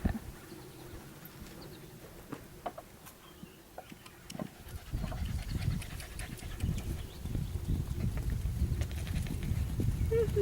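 Pony hooves clip-clop along, a steady close rhythm of soft hoof falls that grows louder partway through, with people talking now and then over it.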